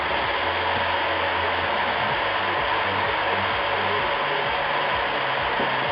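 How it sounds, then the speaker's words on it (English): A Hoover vacuum cleaner runs at close range, giving a loud, steady whooshing roar that holds unchanged throughout with no voices over it. "Stand next to the hoover."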